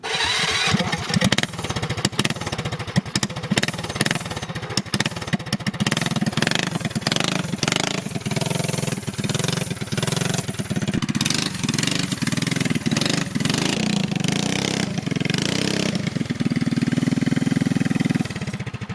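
A small gas engine fitted to a Ford F150 Power Wheels ride-on toy runs steadily and loudly throughout, with a buzzing motorcycle-like drone that rises in pitch near the end, outdoors on a rural property.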